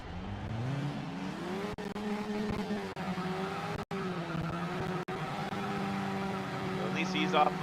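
Engine of a race car in a PS2 racing game, revving hard with wheel spin, a steady droning whine rising and dipping in pitch with a few brief cutouts, close and loud throughout.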